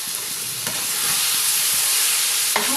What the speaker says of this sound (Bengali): এবার আলুটাকে আমি অ্যাড করে দিলাম।